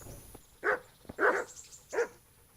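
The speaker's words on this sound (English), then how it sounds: "Puppy!" A puppy in the Kingdom Come video game gives three short barks at moderate distance, separated by brief pauses, over faint background ambience.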